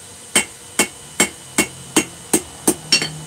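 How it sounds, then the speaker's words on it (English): A hammer strikes small hot metal stock on a die, eight sharp ringing blows at an even pace of roughly two per second, close and loud with no talking. "I'm using the flat side of my die, or the flat side of my hammer"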